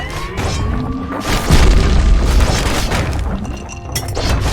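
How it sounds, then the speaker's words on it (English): A grenade blast from the video game Bastion, a loud booming explosion with a shattering, crashing burst that rolls on for several seconds, then a second sharp impact near the end. "I can throw grenades."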